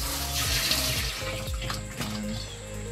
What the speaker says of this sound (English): I'm gonna go ahead and fill this up with a little more water.